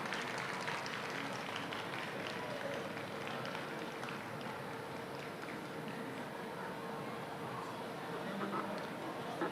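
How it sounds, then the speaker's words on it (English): An outdoor audience at a birthday celebration in Sankofa Square, Toronto, applauds in a steady, distant, fairly quiet wash of clapping that holds level for several seconds, with crowd murmur mixed in. "Big applause, please."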